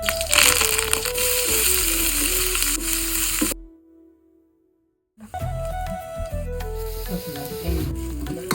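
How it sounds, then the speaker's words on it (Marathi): Gram flour (besan) roasting in a pan for zunka, a steady dry sizzle with scraping as it is stirred, going quiet partway through before the sizzling starts again. "झुणक्यात बेसन घेतले 1 वाटी. तर आता भाजून घेते."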